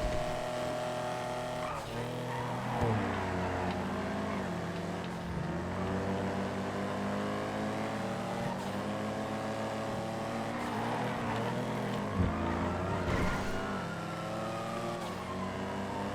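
Race car engines in a GTA FiveM race, revving and shifting continuously as cars overtake, with overlapping engine tones rising and falling throughout and faint talk underneath.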